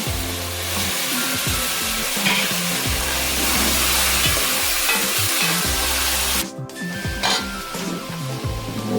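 Tomato sizzling in oil that was heated for a long time, the start of a gombo (okra) sauce. A steady, dense frying hiss runs throughout with low scraping stirs of a utensil, and it eases slightly near the end.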